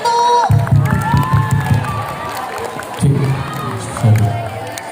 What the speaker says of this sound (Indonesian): Tepuk tangannya dong untuk paslon nomor 1.